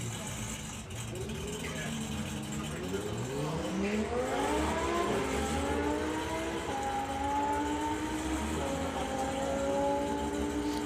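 Lamborghini sprinting down a drag strip at a doorslammer event: a loud, close engine howl climbs steadily through the gears, with rising harmonic sweeps held over roaring background noise and some crowd or commentary voices.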